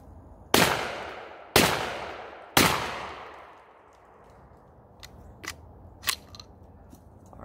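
Black Aces Pro Series S Mini shotgun firing Monarch 7½ shells outdoors: three loud, close blasts about a second apart, each with a decaying echo, then a few quieter clicks and clacks of handling.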